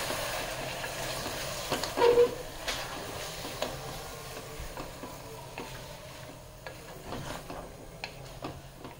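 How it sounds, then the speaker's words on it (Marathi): Tomatoes and sour chuka leaves sautéing in a pan for mutton daalcha, with a steady sizzle, scraping stirs and one louder clatter near the start, close and continuous with no talking. "टोमॅटो जरा बारीक होईपर्यंत, कोमेजूपर्यंत म्हणजे मऊ पडेपर्यंत आपण जरा परतू देऊया त्याला"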